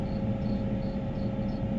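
Squeaking cleaner on a West Texas cotton harvester, a steady cricket-like chirring that pulses faintly over a constant, loud low engine drone inside the cab.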